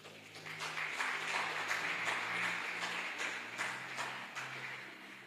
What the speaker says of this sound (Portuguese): Aplaude Jesus por isso, irmão.